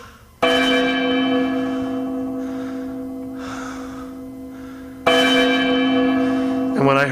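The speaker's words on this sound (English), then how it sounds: "when I heard the bell tolling in the distance" A church bell tolls twice on All Souls' Night in a radio drama, each deep ringing stroke fading slowly. The strokes are spaced about five seconds apart and sound fairly close, with faint breathing between them.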